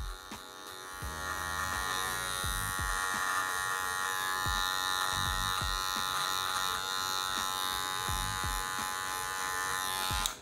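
Electric hair clipper fitted with a size 1 guard trimming a full beard into a vertical fade, a steady close buzz running throughout with repeated short strokes marking a regular rhythm.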